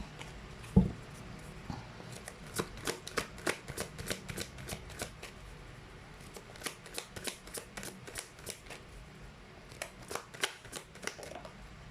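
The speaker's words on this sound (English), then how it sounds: "Let me just pull up one last card over here." Tarot cards being shuffled and drawn from a deck, a long run of quick crisp riffling flicks close by, with a soft thump near the start and no voices.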